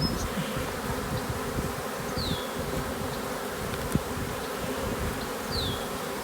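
Steady dense buzzing of many honeybees close by around a swarm box hive, a continuous hum with occasional individual bees zipping past.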